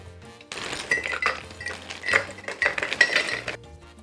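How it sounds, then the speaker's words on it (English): A spoon stirs michelada ingredients in a glass before beer or ice is added, producing quick, irregular clinks and scrapes against the glass over a few seconds. "I'm gonna mix the ingredients before I put the beer or the ice."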